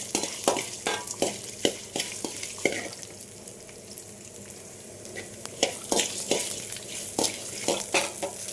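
Whole spices such as coriander seeds, pepper and cumin dry-roast in a pan for a Tamil garlic kuzhambu. A spoon scrapes and stirs in quick, repeated strokes over a faint sizzle, close and clear.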